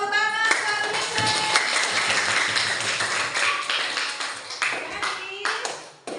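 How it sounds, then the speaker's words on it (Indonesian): A classroom of students applauds a classmate, with dense scattered clapping that continues throughout as a voice talks over it. "Tepuk tangan buat Bima."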